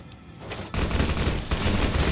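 Heavy gunfire in the video game Fallout New Vegas erupts as a sustained, dense burst of loud close shots, a continuous roar with no pause across the moment.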